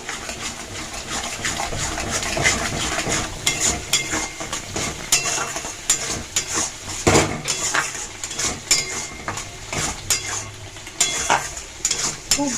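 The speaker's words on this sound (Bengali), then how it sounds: "এটা ভালোভাবে ভেজে নিতে হবে তেলের মধ্যে" Turmeric, salt and green chillies fry in hot oil over high heat in a pan for a pointed gourd and prawn dish, with constant sizzling under busy clattering stirs and utensil knocks against the pan.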